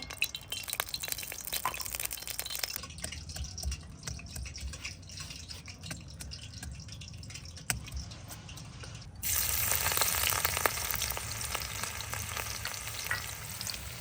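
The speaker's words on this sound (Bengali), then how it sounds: "এবার ভাজা হবে আমাদের এই শাক" Wild thorny leafy greens fry in a pan with a continuous wet sizzle and stirring, the hiss jumping suddenly louder and brighter partway through as fresh moisture hits the hot oil.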